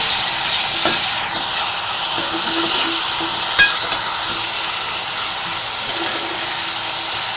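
Chopped tomatoes frying for an egg curry, a steady loud sizzle and hiss from the pan throughout, with occasional light scrapes and taps of a stirring spoon.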